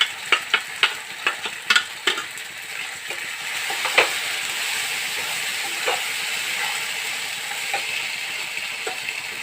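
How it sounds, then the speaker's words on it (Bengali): Two spoonfuls of chili paste are added to a sizzling frying pan for an eggplant and egg curry and stirred. A few sharp utensil clinks come first, then a steady close frying hiss continues. "এখন এর মধ্যে দিয়ে দিচ্ছি লঙ্কা বাটা 2 চামচ।"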